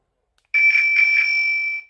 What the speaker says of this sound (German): elektronische Klingel